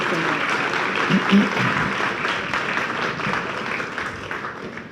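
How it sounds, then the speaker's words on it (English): An audience at an evening guest-speaker gathering applauds steadily, a broad wash of clapping held at even loudness throughout, with murmured voices mixed in. "let's give a big round of applause"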